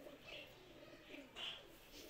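A large pigeon coos in a caged loft, faint soft repeated coos at low level with faint bird chirps and background noise.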